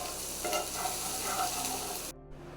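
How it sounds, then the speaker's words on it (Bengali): Whole garam masala and dried chilies fry in hot oil in a kadai, giving a loud, steady crackling sizzle that cuts off abruptly near the end. "কড়াইয়ে তেল গরম করে নিয়ে এর মধ্যে আমি গরম মশলা, গোটা গরম মশলা আর শুকনো মরিচ ছেড়ে দিয়েছি"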